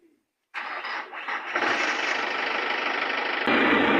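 A car engine cranks and catches after a moment of quiet, then settles into a loud, steady idle close by, with a brief rise in intensity just before the end.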